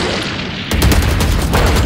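Loud, close gunfire from Valorant erupts after a brief quiet moment and continues as rapid repeated shots with booming impacts.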